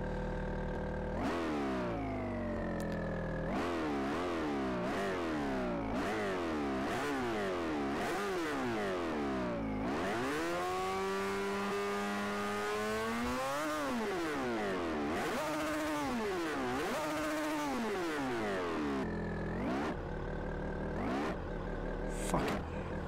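A 3-rotor Mazda RX-7 in the racing game Forza Motorsport 4 revs repeatedly, its engine pitch sweeping up and down through sustained blips and longer climbs, loud and close with no talking.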